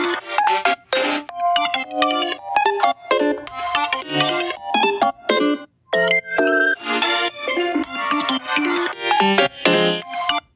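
Rapidly chopped synth lead and chord lines from Kontakt instruments, switching every quarter note in Ableton Live, give a loud, stuttering stream of bright tonal bursts with sharp gaps and no talking.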